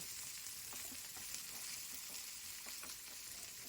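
Small chopped pieces of ivy gourd frying in a pan give a faint, even crackling sizzle with a few light stirring taps, quiet and unbroken, with no voices.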